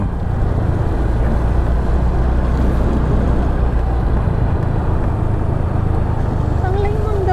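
A Yamaha Mio Gear scooter on a mountain road trip gives a steady, loud engine drone mixed with constant wind rush, close to the rider throughout.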